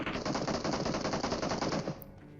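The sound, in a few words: gunfire in a shooter video game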